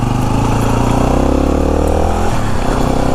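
A Yamaha WR250R motorcycle engine drones steadily and loudly while riding on a Santa Cruz Mountains road, with a constant buzzing tone that shifts pitch slightly near the end.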